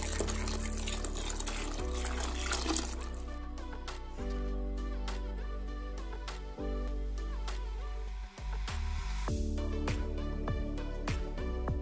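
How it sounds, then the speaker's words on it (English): Broth poured in stages into a pot of seafood gumbo, a steady close liquid pour running the length of the clip with small shifts in flow and a brief dip near the end. "And now we're going to add the broth. And we're going to add the broth in stages."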